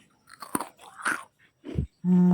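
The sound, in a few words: biting crunchy fried banana pastry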